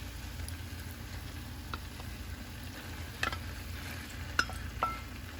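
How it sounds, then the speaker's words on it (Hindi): Food being stirred and mixed in a pan, a steady low sizzle with a few sharp clinks and scrapes of the utensil against the pan, fairly quiet and close, no talking. "हैंडल को पकड़ के मिक्स करो"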